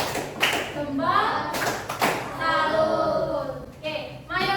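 Children in a classroom chant together and clap in a rhythmic salute, their voices rising and falling around short bursts of claps and taps.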